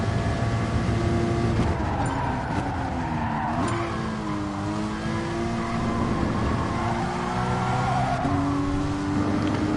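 Race cars in GT Sport howl through gear changes on track, engines rising and falling in pitch with a McLaren nearby, a steady layered roar of several motors at moderate loudness.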